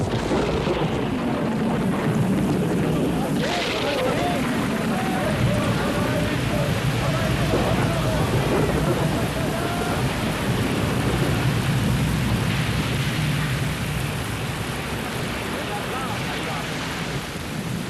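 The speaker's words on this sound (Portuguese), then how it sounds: "Jesus estava dormindo quando começou uma tempestade." A storm breaks over the Sea of Galilee, with steady heavy rain and a broad rumble of thunder that swells early on and again later, loud and continuous with wind mixed in.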